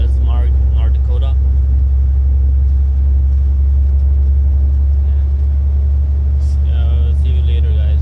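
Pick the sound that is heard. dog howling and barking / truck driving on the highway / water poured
truck driving on the highway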